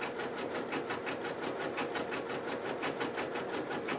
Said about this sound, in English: Then I grab the elastic from in back of the foot and stitch right down the middle.